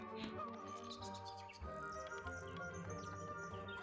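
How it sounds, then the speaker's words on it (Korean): Bright bird chirps and tweets from the mystery puzzle game Tangle Tower ring out in quick bursts over sustained musical tones, fairly soft and with no voices. "새소리."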